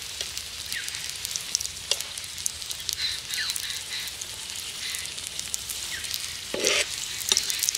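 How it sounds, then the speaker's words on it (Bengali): Paratha frying in oil in a pan, a steady close sizzle with light crackles and occasional sharper spits, a brief louder burst near the end, no talking. "যদি পরোটার এইভাবে তেল দিয়ে ভালো করে ভেজে নিই"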